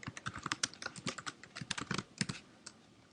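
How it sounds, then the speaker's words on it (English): Quick, light keystrokes patter on a computer keyboard in an irregular run of close clicks for a few seconds, then trail off, with no voices. "And I'm going to type my name,"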